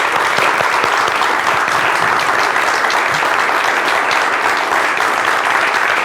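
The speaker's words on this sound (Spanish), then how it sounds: "Señores, despidamos con un fuerte gracias. aplauso al señor Pedro Armendáriz." Sustained, dense applause from an audience at a farewell tribute to actor Pedro Armendáriz, steady and loud throughout with no pauses and no talking over it.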